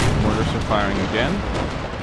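Black-powder artillery from an American Civil War mod of Empire: Total War fires a loud, close cannon volley, a booming rumble with crackling shots that sustains through the whole short burst.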